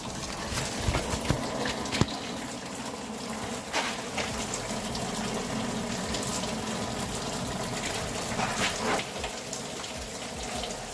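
Fluid pours and trickles steadily from the loosened 10mm bolts of the oil cooler on a 2002 Ford F-350 7.3L diesel, a continuous close splashing patter with occasional drips and small knocks.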